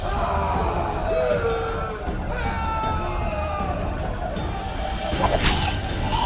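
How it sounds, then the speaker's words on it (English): Raging rioting crowd in the Witcher 2 video game, a dense continuous roar of many voices yelling, whooping and bellowing, loud and sustained throughout with a brief crash-like burst near the end. "One person finds the courage to face the raging crowd."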